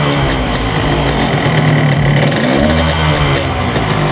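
A Yamaha RX King motorcycle engine runs loud and close throughout, a steady two-stroke drone with rising and falling revs and no talk.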